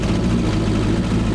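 The 30-year-old engine of a full tube-chassis Honda CRX racecar revving fast, a loud, dense, low mechanical roar that holds steady through a short burst.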